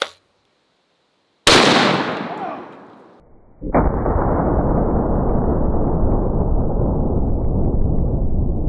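A 700 Nitro elephant gun fires at bowling balls with two heavy, close blasts: a sharp crack first, then a deeper boom trailing into a long, rumbling echo.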